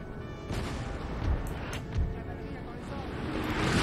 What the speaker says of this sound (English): I need the cannons to stop firing